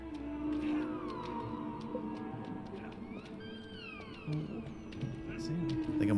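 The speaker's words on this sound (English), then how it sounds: "Why is a catfish making whale sounds?" Whale-like moaning calls from a catfish boss in the video game It Takes Two, rising and falling tones repeating over game music and rumble, with people talking over them.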